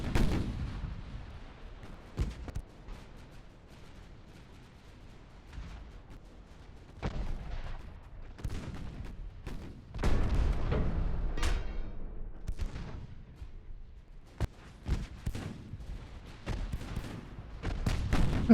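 Naval gunfire in the warship game Ultimate Admiral: Dreadnoughts, with the battleship Bavaria under fire: irregular deep booms and sharp cracks, some distant and muffled, others nearer and louder, scattered across a rumbling sea-battle backdrop.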